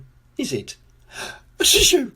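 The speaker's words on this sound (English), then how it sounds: "The sound of a sneeze is very common indeed in Coldland" A short spoken question is followed by a breathy build-up and then one loud, sharp sneeze right up close.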